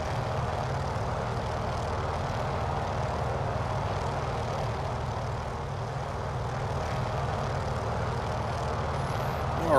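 Noorduyn Norseman radial-engine plane in Microsoft Flight Simulator, cruising with a steady, loud, rumbling drone that holds evenly throughout without talk.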